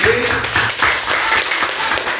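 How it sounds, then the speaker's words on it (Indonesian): A group claps after a student introduces herself during a classroom session. The applause is close and lively, with some uneven swells as hands strike at slightly different times. "Tepuk tangan untuk April."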